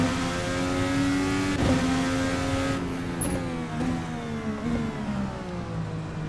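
A race car lapping the Toronto Street Circuit in Assetto Corsa. The loud engine holds a steady harmonic drone, drops off through quick downshifts and then pulls back up, with no voices over it.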